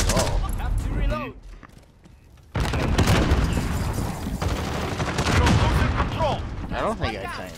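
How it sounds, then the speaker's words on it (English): Gunfire in the Call of Duty: Modern Warfare video game, dense bursts of shots with a brief lull, then heavy sustained firing and booms, mixed with voices talking over the action. "Taking fire!"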